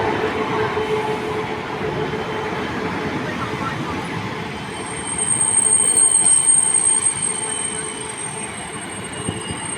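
Air-conditioned diesel railcar express with four coaches pulls into a station, a steady rolling rumble with wheel squeal, growing louder midway as it passes close, then holding as it slows.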